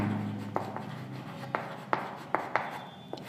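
Pen writing out an equation for a math problem on paper: soft continuous scratching with a series of small taps and strokes spaced roughly every half second, close and quiet with no talking.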